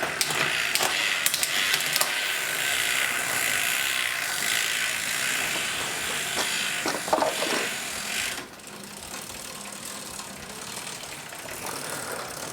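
A bicycle drivetrain spins in second gear on a repair stand, with a steady fast clicking of the ratchet and chain running continuously and close, before the sound drops to a quieter, softer whir.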